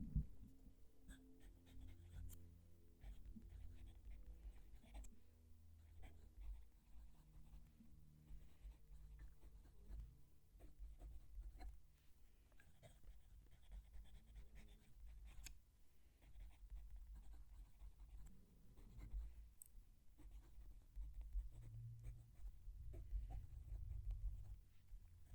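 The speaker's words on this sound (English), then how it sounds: "Let's move the mic down and write that sentence." Fountain pen writing a sentence on paper with the mic lowered close, a faint continuous scratchy nib sound with soft low rumble underneath, no talking.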